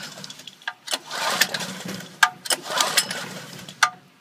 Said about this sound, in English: So it's a pull start. So I'll get going with that.